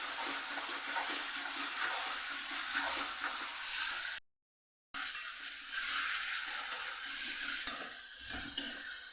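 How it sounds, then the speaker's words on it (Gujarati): Onion paste sautéing in a pan for rajma, a steady sizzle and hiss with soft stirring scrapes, fairly quiet, with a short silent gap partway through. "ડુંગળીને આપણે સરસ સાતળી લેવાની છે."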